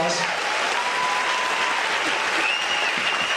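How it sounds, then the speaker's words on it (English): Audience at a Beachbody summit coaches' panel gives a sustained round of applause, dense steady clapping filling the room throughout with faint crowd voices mixed in. "You guys give them one more round of applause"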